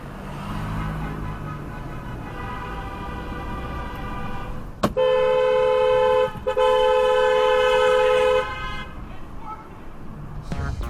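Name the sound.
car horn honking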